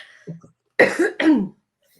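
Two close coughs, harsh and throaty, preceded by a faint low murmur; quiet room otherwise.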